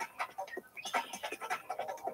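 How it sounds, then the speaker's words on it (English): Faint bird calls chirp in quick, uneven bursts, repeating busily and sounding fairly distant, with no voices present. "Ooh, the bird noise."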